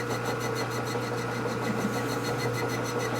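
A machine cuts metal while a flywheel truing tool for a Milwaukee-Eight crankshaft is made, producing a steady mechanical whir with a fast, regular pulsing chatter, close and constant, with no voices.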